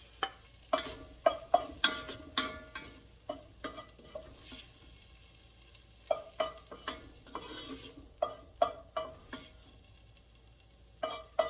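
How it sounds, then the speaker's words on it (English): Cooked onions are scooped out of a pot while making hot chili, repeated scraping and clinking of a spoon against metal over a low, soft sizzle. "I'm just going to go ahead and remove all the onions from the pot right now"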